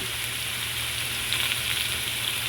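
Spinach sizzles in a hot pan with a constant, close hiss of frying that holds steady throughout.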